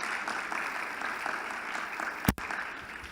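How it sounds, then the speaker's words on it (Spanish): Steady applause from a lecture audience for a speaker, moderate and even throughout, with one sharp knock or bump near the end. "un aplauso para él"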